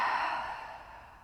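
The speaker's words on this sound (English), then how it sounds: "And then open the mouth and exhale." A single deep exhale through an open mouth during a yoga exercise for neck and shoulder tension, soft and breathy, close and quiet, fading out over about a second with no talking.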